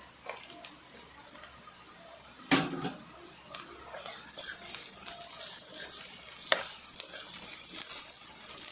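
Fried soya chunks are tossed into fried rice in a hot pan, a steady hiss of sizzling with a few sharp clanks and scraping stirs, growing slightly louder toward the end.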